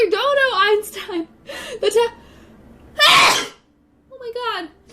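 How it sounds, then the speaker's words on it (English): A woman sneezes once, a loud sharp burst near the middle, with talking before and after it and a brief quiet gap following the sneeze. "I cannot stop sneezing"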